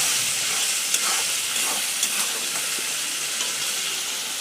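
Onion and garlic frying for dal, a steady broadband sizzle and hiss with a few soft stirring ticks, close and continuous with no talk.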